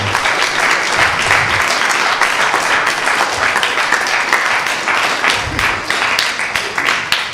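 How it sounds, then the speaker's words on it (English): A round of applause from the audience at a Sunday feast class in a temple community hall, steady dense clapping that fills the whole stretch at a loud, even level with no one speaking over it. "Please give a big round of applause."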